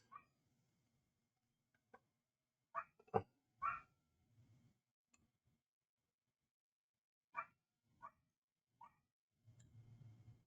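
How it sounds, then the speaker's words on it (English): A small dog barks faintly in the background, a handful of sharp separate yaps scattered across a quiet stretch, with a soft low rustle near the end. "there's a dog barking in the background"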